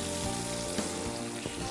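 Sugar, Kashmiri chili powder and turmeric sizzling and frying in a hot pan, a steady dense crackle with a couple of brief stirring scrapes and no talk.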